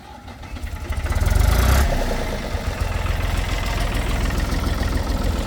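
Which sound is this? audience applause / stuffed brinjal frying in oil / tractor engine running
tractor engine running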